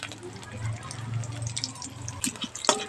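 Whole spices, a bay leaf and dried red chillies spit and crackle as they hit hot oil, with scattered pops and a steady low hum running underneath, sharper crackles near the end.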